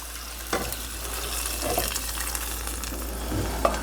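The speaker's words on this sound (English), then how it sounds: "4 cups of vegetable broth. In we go." Four cups of vegetable broth pour into a soup pot already holding potatoes, a continuous close rushing, splashing wash of liquid with a few brief knocks and no talk.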